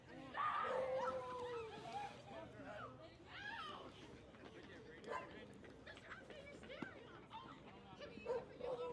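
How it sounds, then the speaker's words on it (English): Dogs bark from homes above a high school baseball field, repeated yips and barks in the distance under crowd chatter and a commentator's speech. "there's dogs up top in the property area that are not happy that all these people are out there right now"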